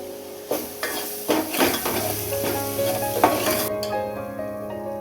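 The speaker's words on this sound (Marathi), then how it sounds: "आल्या लसूण कोथिंबीरची एक चमचा पेस्ट घातली आणि ही अर्धा चमचा आणि चांगली तेलात आपण आता ही परतून घेणार आहोत" Ginger, garlic and coriander paste with spices frying in hot oil for chicken rassa, a steady close sizzle with the scrape of a spoon stirring against the pan and occasional clinks.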